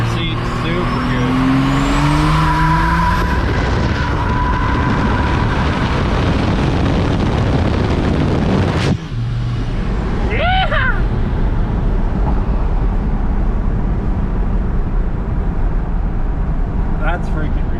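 A 12-valve Cummins diesel pickup accelerates hard, its loud broadband engine roar steady under the cab for most of the run. A short dip comes midway, then the engine pulls on strongly again. No one speaks.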